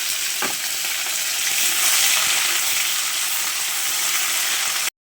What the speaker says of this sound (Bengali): মাংস কুচিগুলো দিয়ে দিলাম